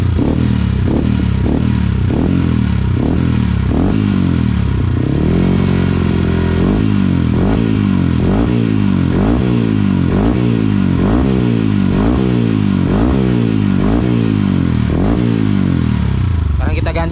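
A motorcycle engine revs hard in repeated rhythmic bursts, loud and close, its aftermarket exhaust set to racing mode crackling and roaring with each throttle blip.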